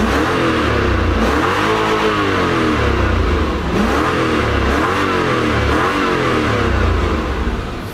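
A Lexus LS400 V8, just repaired, revs hard over and over in loud, sustained surges that swell and fall back, with no one talking.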